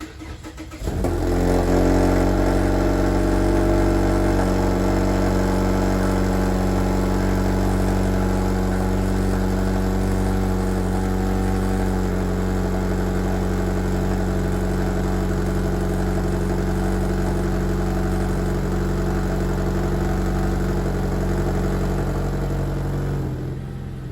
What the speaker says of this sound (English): I bet this cold start's about to be super quiet